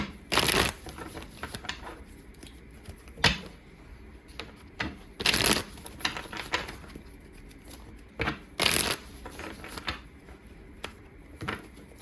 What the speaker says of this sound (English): let's go ahead and get into the first set of cards. I'm going to lay these out first.